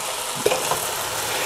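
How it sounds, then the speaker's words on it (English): Tomatoes sizzling and bubbling in a pot seasoned with black pepper, a spoon stirring through them, a steady close frying hiss with a couple of faint knocks. "I'll continue to stir this for 5 minutes or so while the tomatoes heat up and start to soften"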